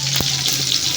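Onions fry with dried and green chillies for a simple chitrannam rice dish, giving a brief, close, dense sizzle that holds steady for about a second, with no voices.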